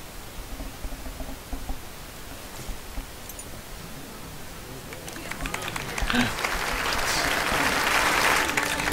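Crowd applause in the video game Final Fantasy XII, a steady wash of clapping that swells louder and denser toward the end under an ambient background.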